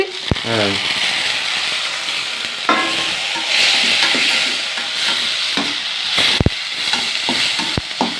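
Tomatoes sauté in hot oil for tomato chutney, a steady loud sizzle broken by scraping stirs and several sharp clinks of a spoon against the pan.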